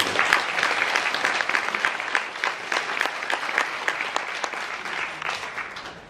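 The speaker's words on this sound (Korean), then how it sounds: "여러분 모두와 함께 박수를 드립니다" An audience at a Jeju 4.3 forum claps warmly, a dense patter of many hands sustained for several seconds before gradually thinning out and fading.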